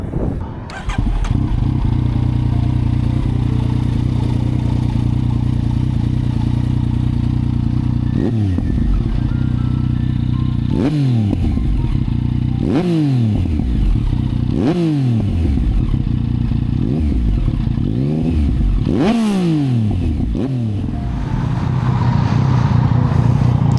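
A Yamaha MT-09 SP Gen 2 motorcycle engine idles loudly and steadily nearby, broken by a series of sharp throttle blips that rise and fall in quick succession before settling back to a rumbling idle.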